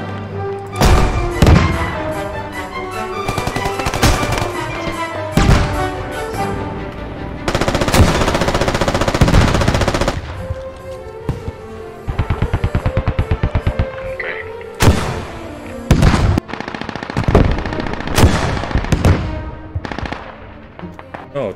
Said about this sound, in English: that artillery is going crazy